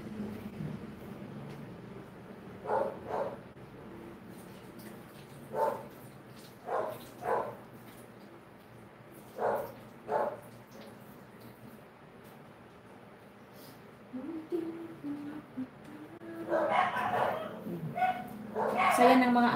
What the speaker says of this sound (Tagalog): Saya ng mga aso.